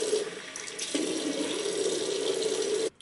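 Running tap water splashes steadily as hands scoop cold or lukewarm water to rinse a face, a continuous close gush that stops abruptly at the end.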